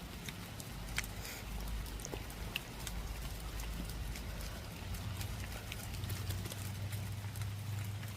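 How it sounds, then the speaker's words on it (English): Rain falls steadily outdoors, a faint continuous patter with scattered drips and taps on surfaces, no voices. "Yeah, it's raining again."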